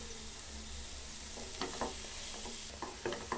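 Sweet potato fry being stirred in a pan over low heat: a soft continuous sizzle broken by several scraping spatula strokes against the pan, close and moderately quiet.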